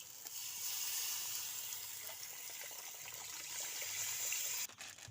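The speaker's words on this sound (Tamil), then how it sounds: "இப்போ புளி ஊற்றிக்கலாம்." A steady, faint pour of tamarind water into a simmering curry of spices fried in oil, a soft continuous watery hiss lasting a few seconds before a small clatter at the end.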